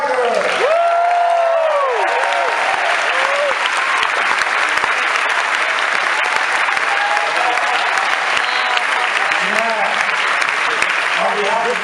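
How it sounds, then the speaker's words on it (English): An audience at a 2013 world premiere of the martial arts film Man of Tai Chi applauds Tiger Chen, a loud, continuous wash of clapping that holds for the full stretch, with some voices and cheers mixed in. "please give a round of applause for Chen Tiger"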